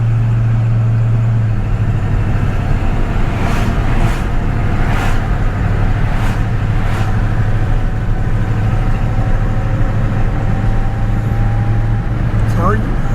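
A Ford OBS pickup truck drives along with a steady low engine drone and road rumble as it shifts through gears, the pitch dropping at each change, while someone talks over it throughout.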